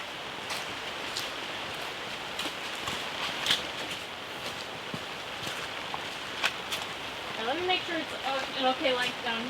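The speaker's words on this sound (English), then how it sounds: "It's starting to really rain hard outside" Steady hard rain drums outside a greenhouse, a broad continuous hiss with scattered louder drops, while a voice talks intermittently near the end.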